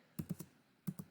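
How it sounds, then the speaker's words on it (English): Quiet keystrokes tap on a computer keyboard: a quick run of three clicks, a short pause, then two more, heard close up in an otherwise silent room. "I'm just typing on here because it's easier than drawing."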